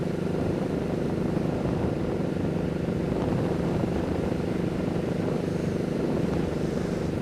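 A motorcycle cruises at 3,000 RPM in top gear at 55 mph, a constant droning engine hum mixed with wind rush, steady and moderately loud with no talking.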